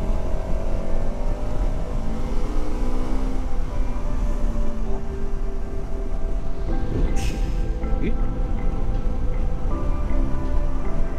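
KTM 1290 Super Adventure S motorcycle accelerating up through the gears on an open road, a steady loud engine drone with rising tones and shifts, heard close from the rider's position under constant wind noise.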